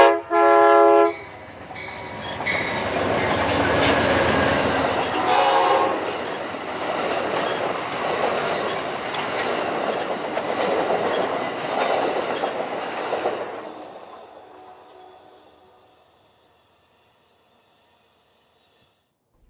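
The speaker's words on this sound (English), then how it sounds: "it's mostly for the benefit of Amtrak's Southwest Chief, Trains 3 and 4, with number 4 seen here clearing the west end of Chappelle" Amtrak's Southwest Chief passenger train No. 4 in New Mexico sounds a short horn blast, then rumbles past with clicking wheels before fading away into near silence.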